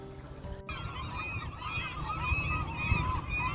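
Gulls call repeatedly in short honking cries over a constant low rumble of wind and boat engine noise, the calls fairly close.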